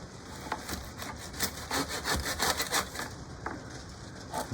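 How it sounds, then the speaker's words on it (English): Hand saw cutting through a buried wood root in soil while digging up a nursery tree, a steady run of rough rasping back-and-forth strokes, close and fairly loud, with no talking. "I'm sawing through something there."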